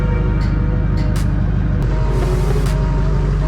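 Duramax pickup truck backing up, its diesel engine idling in a steady low rumble with a faint high whine and a few brief clicks over it, close and continuous.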